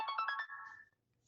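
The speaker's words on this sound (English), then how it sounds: "What was that? That was my phone alarm." A phone alarm going off, a quick run of four or five bright melodic tones followed by a fading sustained note, fairly close and then cut off into near silence.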